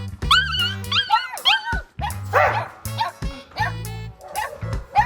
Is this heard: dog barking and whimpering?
yes